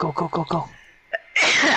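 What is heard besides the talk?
sneeze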